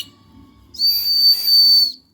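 A person trying to imitate a bird but producing a steady, shrill whistle lasting about a second, close and clear after a brief quiet moment.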